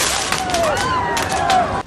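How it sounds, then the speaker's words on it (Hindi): Firecrackers set off during a street protest between rival political groups: repeated sharp bangs and crackles throughout, loud and close, over a noisy crowd background. "एक जगह कुछ प्रदर्शनकारियों ने गुस्से में ट्रंप को पसंद करने वाले लोगों पर पटाखे तक छोड़ दिए"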